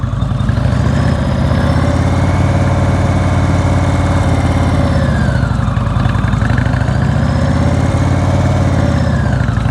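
A motorcycle engine idles at slow speed, a loud, steady low chugging that holds for nearly ten seconds with slight rises and dips in pitch.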